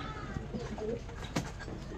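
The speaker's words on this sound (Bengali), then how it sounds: "এই যেমন একটা 600 টাকার পায়রা দেখাচ্ছি" A pigeon in a loft gives soft, low coos close by, with a busy, noisy loft ambience all around it.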